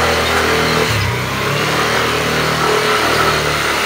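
A car engine revs under hard throttle, a loud droning roar that shifts pitch partway through and then holds, heard from inside the vehicle.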